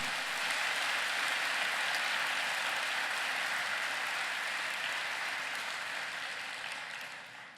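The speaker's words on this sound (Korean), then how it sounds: "우리 박수로 그분에게 영광을 돌려드립니다" A packed church congregation applauds during a prayer service, a sustained, even roar of many hands clapping that holds steady, then fades slightly at the end.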